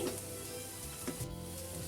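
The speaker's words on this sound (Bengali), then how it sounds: "আপনারা বেশি ভাজা ভাজা করতে চাইলে আরও একটু ভাজা ভাজা করে নিতে পারেন আমি আর একটু করে নিচ্ছি" Drumstick (moringa) flowers frying in a pan: a soft, steady sizzle close by, with a couple of faint stirring scrapes and no talking.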